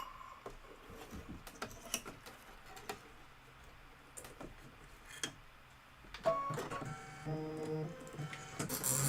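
A home embroidery machine stitches a white-thread design for a Kimberbell Cup of Cheer project, giving a steady run of rapid mechanical ticks and clicks that grows louder and busier near the end, with no one speaking.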